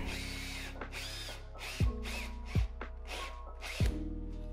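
A power screwdriver drives screws through mounting brackets into plasterboard anchors in a wall, giving a steady close whirring motor hum broken by three short louder bursts as each screw bites and seats.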